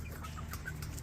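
Soft, brief clucks from American game fowl, a Liper hatch cock and a California hatch pullet, heard faintly over a low steady background hum.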